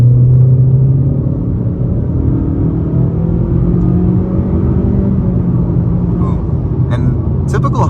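A 2023 Honda Accord LX accelerates with a low, steady engine rumble and road drone heard from inside the cabin, continuous and fairly loud, with faint clicks near the end.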